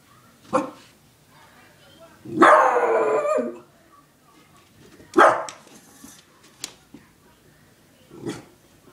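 A dog lets out a few sharp barks and a drawn-out howl indoors, in separate bursts with pauses between, fairly close and moderately loud, with no talk over it.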